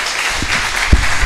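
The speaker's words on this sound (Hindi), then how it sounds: "ताली बजनी चाहिए फिर से।" A congregation at a Hindi-language church sermon breaks into loud applause, a dense, steady wash of clapping that fills the short moment.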